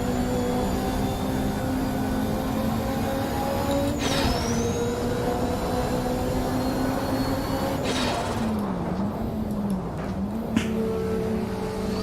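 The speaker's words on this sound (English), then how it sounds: "I like the sound of it sort of kicking and farting and sneezing and doing all these things that the old turbo cars used to do" An old turbocharged race car engine from a DRM revival mod in Assetto Corsa drones steadily, with its pitch rising and dipping as the throttle shifts and brief pops and sharp transients breaking in near the end.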